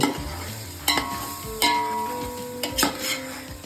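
A spoon stirs biryani masala in a hot pan for a Tamil Nadu style mutton biryani, giving a continuous sizzle with a few sharp scraping clinks of metal on the pan.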